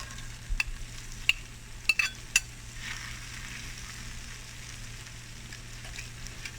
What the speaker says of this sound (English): we'll grab our prepared onions and peppers, get them cooking in that pan